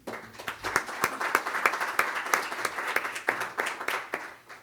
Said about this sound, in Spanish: recibamos a estos expositores con un cálido aplauso.